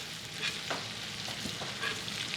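Steak and shrimp sear in a cast iron skillet with a dense, continuous sizzle and crackle, punctuated by light scraping and stirring noises close by.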